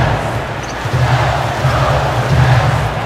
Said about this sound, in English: The home crowd loves it in this game.